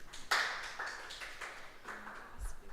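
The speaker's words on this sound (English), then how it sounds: "Yes, clap for Dr. Amanda." Scattered audience clapping in a morning radio studio, a few sharp claps at first that thin into light, irregular patting while faint voices carry on in the background.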